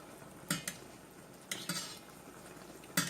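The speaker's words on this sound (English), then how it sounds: "I'll go ahead and fry all of them." Bacalaito fritters, Puerto Rican salt-cod batter cakes, in hot oil with a steady low fry hiss and a few sharp utensil clinks against the pan.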